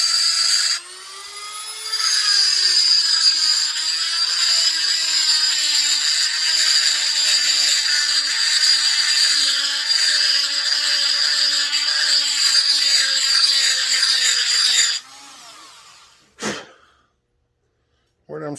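Steady, loud grinding whines close up for about thirteen seconds as a grinder cuts out the staked metal around a U-joint bearing cap on a Suzuki axle, then stops abruptly, followed by a couple of brief knocks.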